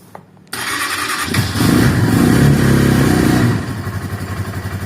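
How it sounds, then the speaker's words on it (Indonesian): A Viar motorcycle engine cranks with a sudden start, then idles and revs while warming up, loud and close, with a rough, clattering rhythm that settles into a steady throb. "panasi mesin cek lur."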